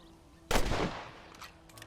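A single sharp rifle shot in the Red Dead Redemption video game cracks out close and loud, followed by a decaying echo tail with faint distant pops.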